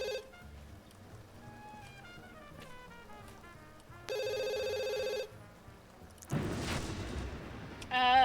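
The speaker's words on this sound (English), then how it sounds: "We'll get you to answer the" A telephone rings in The Sims 2 video game, a series of electronic ringing bursts amid game music and sound effects, including a loud ringing stretch and a noisy burst near the end.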